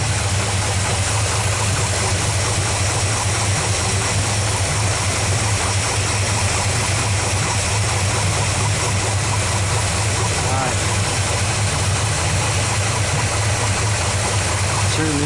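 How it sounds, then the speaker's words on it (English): A small-block Chevrolet V8 engine, with a new two-piece timing cover and other components not yet hooked up, runs steadily at a rough, loud idle, its dense rumble continuing without pause throughout. "I know everything else isn't hooked up on the engine, but it can run this way for a few minutes"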